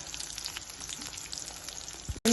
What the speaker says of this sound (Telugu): చూడండి బాగా ఫ్రై అవుతుందో